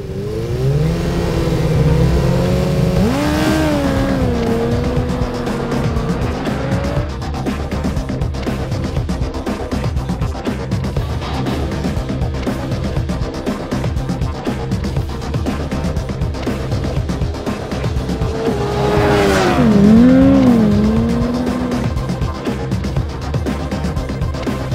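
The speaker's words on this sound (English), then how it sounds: "challenge him to a drag race and pick the keys to the bike that I think will beat the MT-10 from 0 to 100 miles an hour" Naked superbikes such as the Yamaha MT-10, BMW S1000R, KTM 1290 Super Duke R and Triumph Speed Triple drag racing from 0 to 100 mph, engines revving hard with rising and falling pitch sweeps through gears, loud and continuous for the whole stretch.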